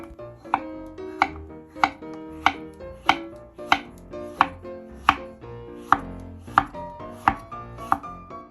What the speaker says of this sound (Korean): 아보카도를 썰어주세요.